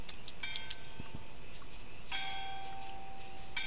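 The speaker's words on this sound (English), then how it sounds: "I think that's sounding the bell" A bell in Kentucky Route 0 rings to begin a ceremony, giving a few clear ringing tones that sustain over a steady ambient background, with scattered faint ticks and knocks.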